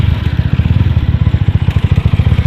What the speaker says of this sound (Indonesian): Dan ini dia hasil akhir Tiger 240 cc. Langsung kita tes sound.